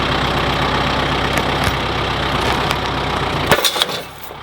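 A Kubota tractor engine labors under heavy load while pulling up a tree stump, a steady loud rumbling drone with knocking that holds for several seconds before a sharp snap or clatter and a sudden drop in engine noise.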